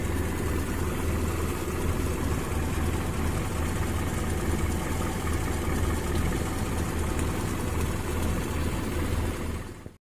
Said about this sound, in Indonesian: jadi seperti ini suara mesinnya pada saat mesin nyala ya